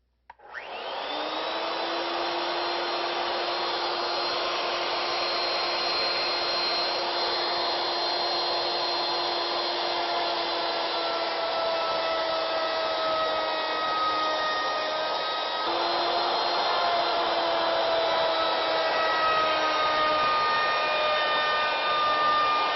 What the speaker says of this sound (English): Once the router bit is positioned where we want it, we'll go ahead and set the stop again.